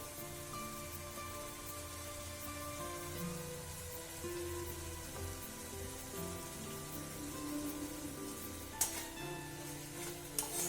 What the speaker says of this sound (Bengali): এবার এখানে একটু ভাজা ভাজা হওয়া পর্যন্ত কষাবো